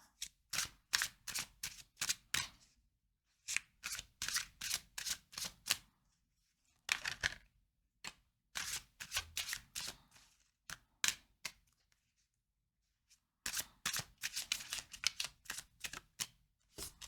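Tarot cards being shuffled up close, a run of crisp riffling flutters in quick bursts separated by short pauses, with no talking.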